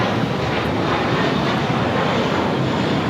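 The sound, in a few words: JetBlue Airbus A321 jet at LAX airport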